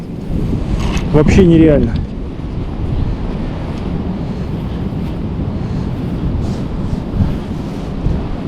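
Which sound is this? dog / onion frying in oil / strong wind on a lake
strong wind on a lake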